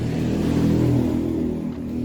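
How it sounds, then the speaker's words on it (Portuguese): A car revs and passes close by on a busy residential street, a loud steady engine drone that swells and then fades slightly. "Eu não sei também porque que passa tanto carro e tanta moto na minha rua"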